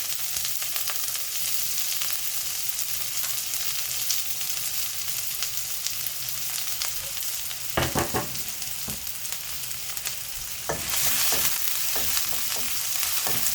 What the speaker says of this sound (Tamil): இப்போ கட் பண்ணி வச்சுருக்க பச்சை மிளகாய் அப்புறமா ஆனியன் ரெண்டும் போட்டு நல்லா ஃப்ரை பண்ணிக்கலாம்